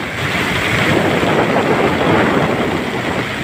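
Strong wind buffets a small fishing boat far out at sea, a loud, steady roar of gusts and surf that fills the whole stretch without pause and without talk.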